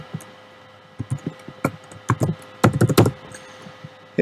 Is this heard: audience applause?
no